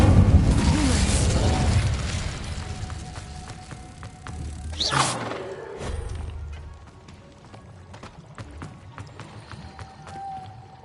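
An Incendio fire spell in Hogwarts Legacy bursts out as a loud roaring whoosh, then fades, followed by a sharp swooshing flare midway and quieter crackling and mechanical clinks afterward.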